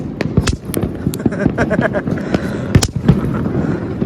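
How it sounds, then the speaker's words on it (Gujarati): Rapid, irregular pops and cracks of Diwali firecrackers going off one after another, loud and close, with a busy background of distant bangs. "હજી તો ભાવનગરમાં ફટાકડા ફૂટે છે"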